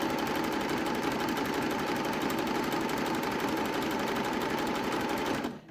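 A sewing machine stitches jersey fabric in a steady, continuous whir with a fast mechanical patter, close and fairly quiet, running evenly for several seconds before stopping abruptly.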